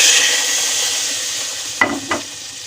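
Steady frying sizzle fills the background, broken by two short bursts as hot spiced tempering hits a pan of potatoes, with a faint stirring scrape.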